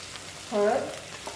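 Onion and tomato roasting in a pan are stirred with red chili powder, turmeric and coriander powder, giving a brief, soft scrape and sizzle from close by against a quiet background.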